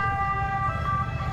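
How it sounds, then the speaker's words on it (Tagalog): Ambulance siren on a street in Massa Carrara, Italy, a steady sustained wail with a shifting pitch, moderately loud over low traffic rumble. "ganun pa yung tunog ng ambulansya nila dito"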